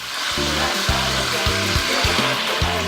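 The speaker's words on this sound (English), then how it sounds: "It's been exactly 3 minutes, and it's time to add our broth." Broth poured into a simmering pot of tomatoes gives a steady, close sizzling hiss with a soft watery wash throughout, over faint low background music.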